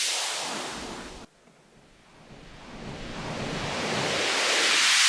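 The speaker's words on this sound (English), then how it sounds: "this second one, riser white noise, that's what we want." A broad white-noise riser swells steadily louder and brighter, starting after an abrupt cut, with no voices.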